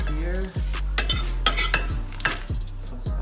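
Scrambled eggs with bitter gourd stirred in a hot pan, a metal utensil scraping and clinking against the pan in repeated strokes over a soft sizzle, close and clear, with no voices.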